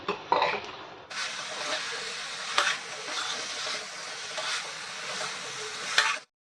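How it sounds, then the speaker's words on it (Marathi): Brinjal and potato being sautéed with dry fish in a pan sizzle steadily and loudly, with occasional clinks and scrapes of stirring and no talk. "हे वांग बटाटा आहे ना तुम्ही स्वच्छ असे धुवून घेतलेले आहेत आणि त्याला परतून घ्यायचे"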